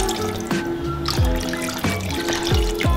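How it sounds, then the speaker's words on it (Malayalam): Water poured into a pan of Kerala-style mackerel chilli curry (ayala mulakittathu), a steady liquid trickle and splash running continuously at close range with no talk. "മീൻ വേവാനുള്ള വെള്ളം ഒഴിച്ചു കൊടുക്കാം."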